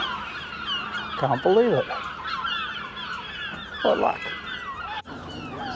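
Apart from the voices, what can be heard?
seagulls calling in Newlyn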